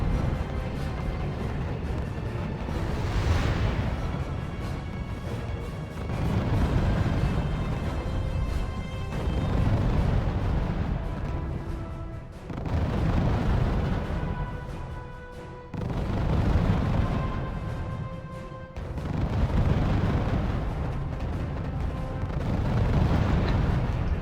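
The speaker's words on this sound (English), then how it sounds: "he's got artillery destroying my bases in the back." Repeated artillery fire and explosions from the real-time strategy video game R.U.S.E., with bases being shelled; several heavy booming bursts roll through the clip, loud and continuous, separated by short dips, with no talking.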